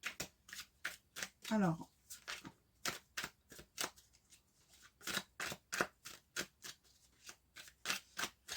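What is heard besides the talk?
tarot cards being cut and shuffled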